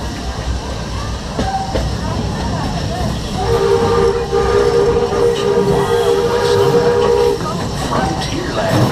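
A Walt Disney World Railroad train runs loudly at Magic Kingdom, its wheels rumbling and clattering steadily with a sustained whistle-like tone through the middle, heard up close on board.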